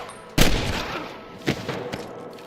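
Gunfire in the Western video game Red Dead Redemption 2: one loud booming shot followed by a quieter second report and faint distant pops, with a lingering rumble in between.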